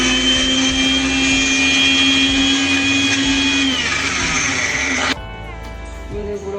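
Electric mixer grinder whirring at high speed as it pulverizes broken motichur laddu pieces, a loud steady motor whine that drops in pitch and then cuts to a lower hum near the end.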